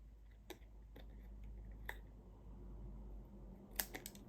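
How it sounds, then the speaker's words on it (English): Scissors snip a die-cut paper piece for a card in a quiet room: a few sharp, isolated clicks spaced apart, then a quick cluster of snips near the end. "I'm just going to snip it"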